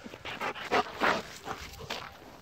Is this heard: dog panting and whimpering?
yes